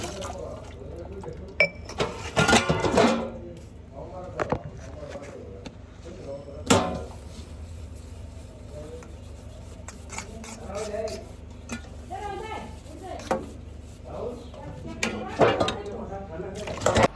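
Dishes clatter and knock while being washed, irregular metallic clinks and thuds with running water underneath, close by, with occasional soft speech.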